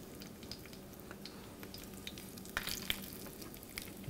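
Breaded fish pieces frying in a pan with a steady, soft sizzle and crackle, a few small pops and light utensil clicks, fairly quiet and close with no talking.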